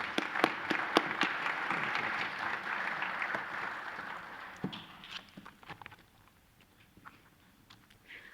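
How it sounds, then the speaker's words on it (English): Applause at a fire and rescue emergency medical services awards ceremony honoring a new congressional district director, several sharp claps over a crowd that thins out and trails off into scattered claps. "Let's give her a round of applause"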